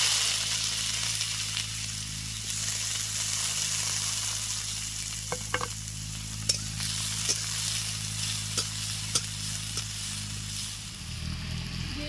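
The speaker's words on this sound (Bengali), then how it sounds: "কালো জিরে দিয়ে দিচ্ছি পেঁয়াজ কুচি" Nigella seeds and chopped onion fry in oil for a pointed gourd mash, a loud continuous sizzle with a low hum beneath and occasional sharp scrapes of stirring, nearby and without speech.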